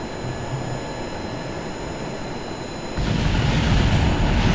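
An airplane taking off in the video game Kerbal Space Program: a steady engine roar and rushing noise that swells louder and rumbles deeper partway through, with no talk.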